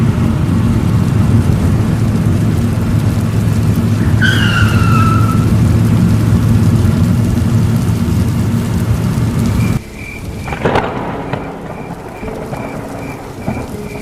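Heavy rain pours in a dense, loud, continuous hiss on a dark night, with a brief whistling tone partway through, then quieter rain joined by a few knocks and thumps.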